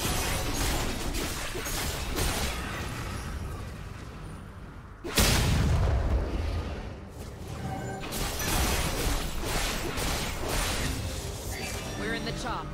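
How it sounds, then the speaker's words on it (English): An enemy turret is destroyed in a League of Legends top-lane match between Kayle and Darius, giving a sudden loud crashing boom midway through busy game noise, with a voice talking around it. "His turret has been destroyed."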